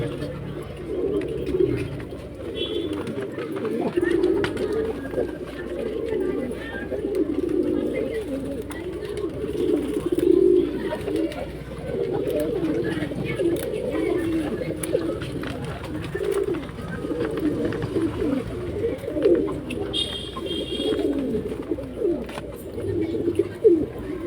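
Pigeons coo in low, repeated throaty phrases, close and fairly loud, overlapping almost continuously with faint background noise.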